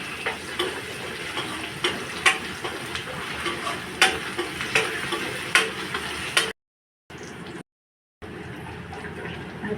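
Ginger garlic paste and kokum sizzle in a pan for a Malvani jawla dish, a steady hiss with clicking stirs and scrapes, broken by two brief silent gaps near the end.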